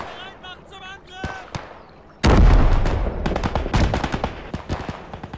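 Machine gun fire in the World War II strategy game Gates of Hell: Ostfront. After quieter sounds, a sudden loud burst of rapid gunfire and repeated shots follows, with a voice speaking faintly early on.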